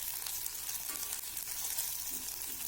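Coriander, cumin, pepper, chana dal, fennel, cloves and cinnamon frying in hot oil for a cabbage kulambu, a soft steady sizzle with faint crackles and occasional stirring, fairly quiet and without talk.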